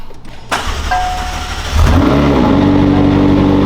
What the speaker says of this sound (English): Warm up the vehicle.